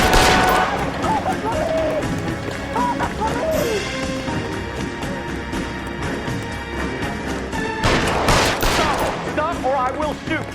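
Gunfire in the video game L.A. Noire: loud, dense volleys of shots with a sharp burst near the end, mixed with shouting voices and other action noise.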